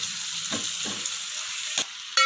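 A pounded paste of black pepper, garlic, ginger and dried red chillies fries in a pan for spicy pepper rasam, giving a close steady sizzle with a few soft stirring scrapes and a sharp clatter near the end.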